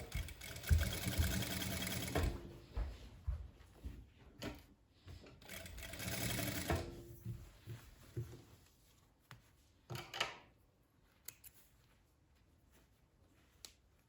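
A sewing machine stitches along the edge of a trapeze skirt with an elastic waist, running in loud close bursts of rapid whirring with short pauses between seams and no talking.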